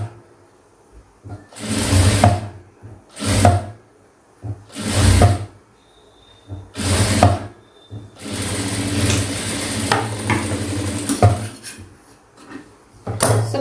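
A sewing machine stitches a quarter-inch seam in blouse cloth, running in several short bursts separated by pauses, then one longer continuous run, close and clear with no talking.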